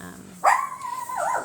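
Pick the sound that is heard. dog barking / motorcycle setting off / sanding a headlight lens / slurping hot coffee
dog barking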